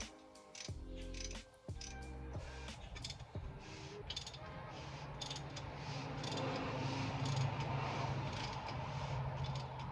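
Engine bolts are torqued during an LS engine rebuild, with quick ratcheting clicks and a few sharp metallic clacks up close, followed by quieter mechanical fiddling and a low hum.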